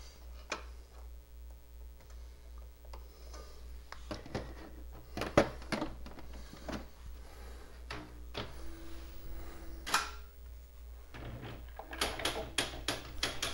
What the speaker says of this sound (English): So let's turn the typewriter back on.